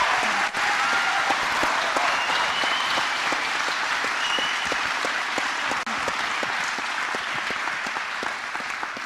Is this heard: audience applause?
yes